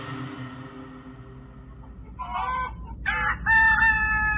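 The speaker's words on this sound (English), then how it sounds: "Chickens! They got chickens on video." Chickens clucking with a rooster crowing, beginning faintly under a low hum and swelling into louder, nearer crowing bursts toward the end, with no voices.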